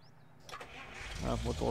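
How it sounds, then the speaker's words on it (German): A truck engine starts up in the MudRunner video game: a brief cranking, then the motor catches and grows into a loud, steady rumble that swells toward the end. "Motor starten."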